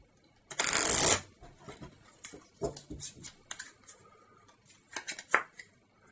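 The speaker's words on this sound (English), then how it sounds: "so we'll give this a good shuffle." Field of Glory board game cards get a vigorous shuffle: a dense riffle burst up close, then scattered soft taps, flicks and card slaps as the deck is squared. No talking.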